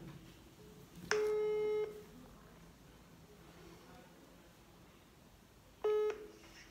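Phone ringback tone while calling someone, two separate long beeps about five seconds apart, each about three-quarters of a second long, over a quiet room.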